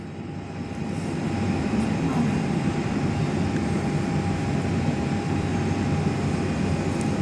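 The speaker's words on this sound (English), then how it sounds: "the plane that you saw, the international one, is a Qantas 787-9. in from London Heathrow" A Qantas Boeing 787-9 airliner arriving from London Heathrow at Perth airport, heard from an indoor viewing platform as a steady, distant jet roar that swells slightly and then holds level.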